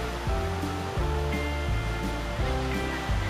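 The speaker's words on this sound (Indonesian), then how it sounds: "Sebelah kanan juga sungai. Sebelah kiri juga sungai." River water flowing near the Coban Rambat dam and waterfall in Trenggalek, a loud steady rushing roar with no voices.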